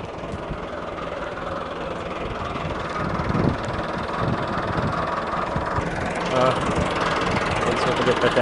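A Massey Ferguson MF 385 tractor with a 9-tine ridger in a sugarcane field runs with a steady diesel rumble, moderately close, the engine note swelling slightly partway through while voices talk over it.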